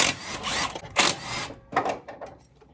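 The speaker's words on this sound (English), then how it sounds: "Grab your socket or your rattle gun, whichever you're using first, and then remove the caliper bolts." A rattle gun works the brake caliper bolts off a Mazda 2, with loud, close bursts of buzzing mechanical whirring that start and stop in quick succession.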